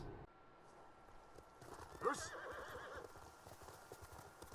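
Steady clip-clopping of horse hooves with a brief whinny partway through, heard faint under low background noise, from the video game Ghost of Tsushima.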